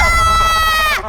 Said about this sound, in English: What are we screaming about?